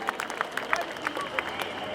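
Audience applause for speaker Iona Soper at a Believe in Scotland event: a moderate, steady spatter of hand claps from a crowd, with sharper individual claps popping out at irregular moments across the two seconds.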